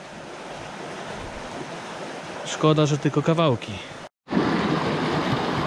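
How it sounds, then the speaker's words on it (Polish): A very fast-flowing river rushes beneath a bridge, a steady, close roar of churning water. Someone briefly speaks in Polish over it before a short dropout. "Jest tu bardzo rwąca rzeka"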